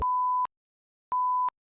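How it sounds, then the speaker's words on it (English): Two clean censor beeps, each a steady pure tone lasting under half a second, separated by a short silence, with a click at the start of each. "there's a bit of swearing there, and I'm gonna have to sort of beep all that out"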